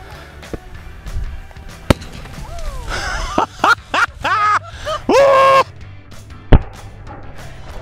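Sodium is dropped into a watermelon outdoors, causing a sharp bang followed by several fizzing, popping bursts and crackles, loud and close. A voice groans or gasps amid the blasts.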